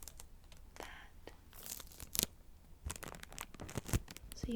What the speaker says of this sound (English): So you get the crinkle and the plastic sound